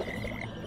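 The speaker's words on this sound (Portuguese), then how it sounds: "Sapos." Frogs croak in the video game Ben 10 Power Trip, a brief steady chorus of low croaks with a faint background hum, no voices.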